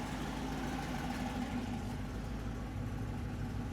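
A steady, low idle from a high-vacuum engine with an oversized carburetor, pulling about 20 inches of vacuum, rumbles evenly throughout, with no revving and no voices.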